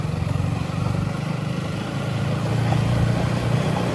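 A motorbike ridden at night along a dark, badly broken road gives off a steady, close engine drone with a low, even hum and some wind rush, slightly louder toward the end.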